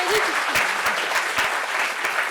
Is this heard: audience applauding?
yes